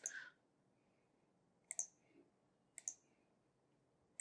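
Computer mouse clicks, a few sharp, crisp taps spaced about a second apart, close and quiet against near silence.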